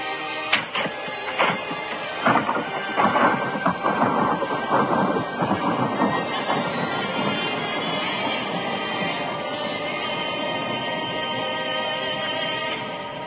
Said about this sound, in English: Here is a video of a guy blowing a balloon inside a nuclear power plant. When slowed down it sounds just like thunder.